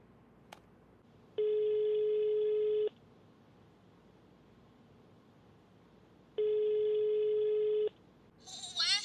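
An unanswered telephone rings twice, each long steady tone lasting about a second and a half with a pause between, loud and clear against a quiet room, with a brief higher electronic chirp at the very end.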